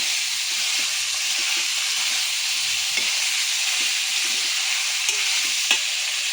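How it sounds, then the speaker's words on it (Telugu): Bone-in chicken pieces fry on a high flame for quick haleem, giving a loud, even, close sizzle that runs without a break, with a few faint stirring taps and no voices. "హై ఫ్లేమ్లో ఇది ఫ్రై చేసుకోవాలండి."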